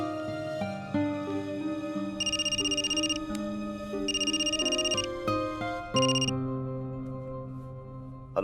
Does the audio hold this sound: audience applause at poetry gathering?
no